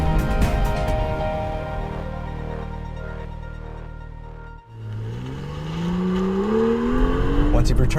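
A 2016 BMW M2 engine drones under load on a street drive, then briefly drops away and climbs again in pitch as the car accelerates through the gear, loud and close.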